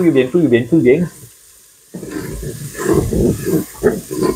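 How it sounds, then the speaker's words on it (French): Paella ingredients are stirred in a Cookeo electric pressure cooker, a soft sizzling scrape under people talking, with a brief lull before the chatter resumes. "Allez, touille bien tout ça."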